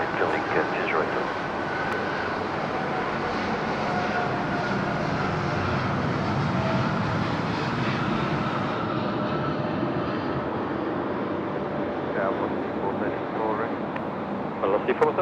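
A plane lands at night at Sydney Airport, producing a loud, continuous jet roar that stays steady throughout, heard from nearby with people talking over it.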